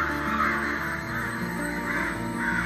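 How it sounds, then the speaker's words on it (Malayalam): Crows caw repeatedly overhead, a steady chorus of harsh calls from several birds across the whole stretch, with no voices. "കാക്ക ആണെങ്കിൽ ആ മുകള് മൊത്തം കാക്ക"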